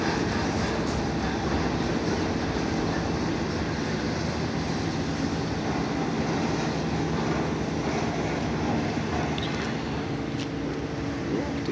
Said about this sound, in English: It's the first piggyback, the first true intermodal train I've seen with piggyback cars.